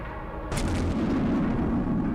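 Grenade blast blowing a hole through a wall in the horror game The Glass Staircase: a single sudden, heavy boom with a deep rumbling tail that lingers.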